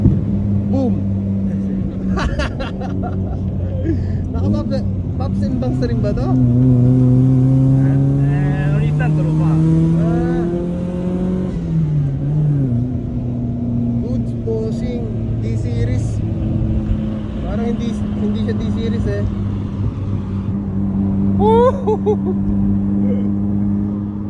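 A modified car at a monthly car meet in Italy revs and accelerates with rising engine pitch, loud and close, while people talk nearby.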